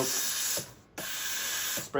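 A Breville Oracle Touch steam wand purges in loud hissing sprays, with two short breaks between the bursts.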